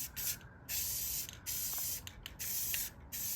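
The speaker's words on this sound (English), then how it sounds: "We're about to spray paint the pegs." A spray can paints go-kart pegs during a 200cc go-kart restoration, with a run of close hissing bursts separated by short pauses.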